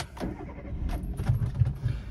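A 2009 Chevrolet Aveo with an 84 hp 1.2 petrol engine is started nearby, giving a low rumbling engine sound with faint jangling of keys.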